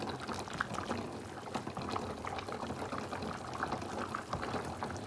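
Water boils vigorously with chicken pieces for biryani, a steady dense bubbling and churning that stays close and constant throughout, with no talk.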